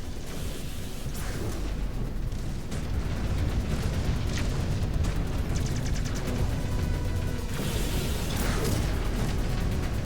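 Missile explosions from a mech battle in MechWarrior 5: Clans, a dense, loud, continuous rumble of booms and bursts filling the whole stretch with no voices over it.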